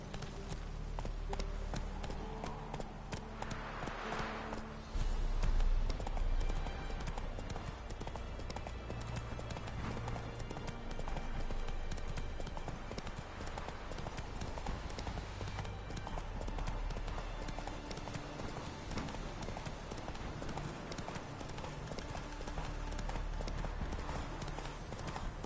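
Horse hooves clip-clop in a steady galloping rhythm in a video game, continuous and fairly loud for the whole stretch, with a voice speaking briefly.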